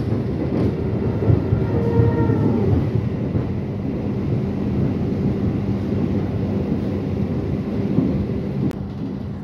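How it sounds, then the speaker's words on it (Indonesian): The Sawung Galih passenger train runs on its rails, a steady, close, rumbling roll with rhythmic clatter and a few sharp knocks throughout. "Kereta api Sawung Galih saat ini melewati terowongan hijau"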